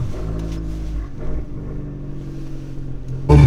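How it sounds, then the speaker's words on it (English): Fiat 500 Abarth engine with new ignition coils idling steadily in a close, low rumble with a brief surge partway through, then a sudden loud burst of revving at the end. "it's idling a lot smoother."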